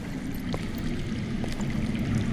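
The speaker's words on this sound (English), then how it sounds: "That's water. I hear water. From underground." Underground water rushes and gurgles in the Telltale Game of Thrones video game, a steady, muffled low flow with faint trickles on top and no voices.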